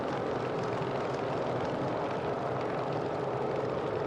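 A piston aircraft engine drones steadily in a flight simulator as a plane passes. The broad, unbroken engine roar stays at moderate loudness for the whole stretch, and nobody speaks.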